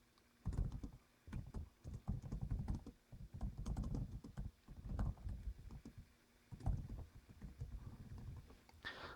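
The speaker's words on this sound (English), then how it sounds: "that's just my bad typing" Typing on a Surface Pro 3 Type Cover keyboard, close, soft irregular clatter of key presses in uneven bursts with short pauses between.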